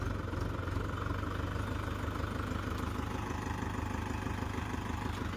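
A Mahindra tractor engine idles steadily on a farm field, a low, even diesel chug that runs throughout at close range with no speech.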